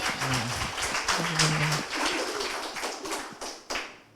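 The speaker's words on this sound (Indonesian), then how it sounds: "Ya boleh kasih tepuk tangan deh buat teman-teman yang tadi udah jawab." A youth church service group claps together in a dense, brisk burst of applause, with a few voices murmuring underneath; the clapping thins out toward the end.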